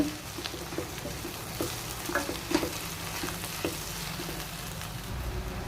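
Ginger paste frying in a pan gives a constant, close crackling sizzle, broken by scattered small pops and stirring scrapes, fairly quiet and steady throughout with no voices.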